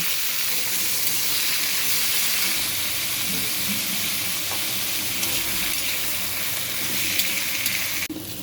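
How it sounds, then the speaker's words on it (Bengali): Bitter gourd slices fry in oil in a home kitchen, a loud, even sizzle that keeps going close up, with occasional stirring clicks and a sharp knock at the end. "বাকি উচ্ছেগুলো আমি আবার একই একইভাবে ভেজে নেব"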